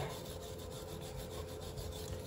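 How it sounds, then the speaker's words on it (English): A tool rubs and scrapes gunk off the splines of an Oliver 550 tractor rockshaft, a soft, steady rasping close to the microphone with no talking. "Just cleaning those splines."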